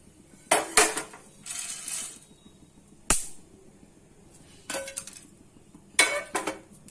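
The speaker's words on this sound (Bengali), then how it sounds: "এটা আমি প্লেটের মধ্যে এখন ঢেলে রাখছি" Fried motichoor laddu mixture is tipped from a pan onto a plate, heard as a few separate bursts of scraping and clinking metal, close and moderately loud, with quiet gaps between them.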